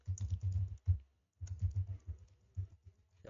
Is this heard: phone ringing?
no